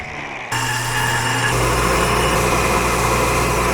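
Power tool spinning up to cut the head off a vice grip clamp, starting abruptly and settling into a loud, steady high-pitched whine with a low hum underneath, no talking.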